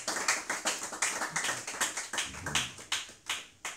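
Rhythmic hand clapping in acclaim of the Lord Jesus Christ, a steady run of sharp claps about every quarter second, fairly close and moderately loud, with no speech over it.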